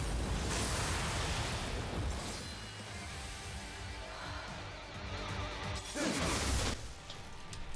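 Rukia's Bankai Soul Bomb attack lands in a video game: loud, dense crashing bursts and whooshing blasts with a rumbling low end, swelling again in a second heavy eruption near the end.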